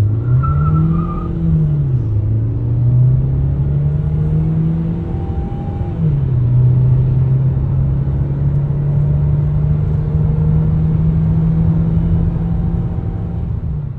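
A KMC J7 car is accelerated at full throttle from inside the cabin, with a loud, steady engine drone that climbs in pitch, drops briefly at a gear change, then climbs again through the next gear.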